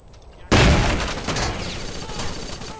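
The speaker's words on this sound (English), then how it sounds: "And then throw in the flashbangs." Flashbangs going off in a video game: a sudden loud bang after a brief quiet moment, followed by a long rumbling, crackling decay with a steady high ringing tone over it.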